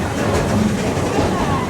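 Busch Gardens Serengeti Express park train riding slowly through the Congo Jungala section, a steady close rumble of the cars rolling on rails with faint clickety-clack and some background voices.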